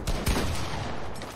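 Gunfire in the video game Fortnite, a quick loud burst of shots at the start fading into a dense rumbling wash, brief and without talk.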